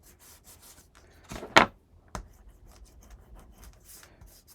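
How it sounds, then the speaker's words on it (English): Black cardstock burnished by hand onto a Graphic 45 farmhouse mini album page, a soft dry rubbing that swells into one sharp, close scraping stroke, then a shorter stroke and faint rubbing. "Burnish it."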